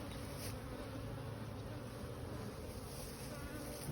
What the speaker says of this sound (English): there are a couple of bees trying to get in.